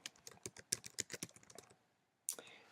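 Quiet typing on a computer keyboard: a quick burst of light key clicks for about a second and a half, a short pause, then a couple more taps.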